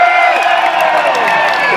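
Large grandstand crowd at a freestyle motocross show cheering and whooping loudly, a dense sustained roar of many voices with scattered shouts and whistles throughout.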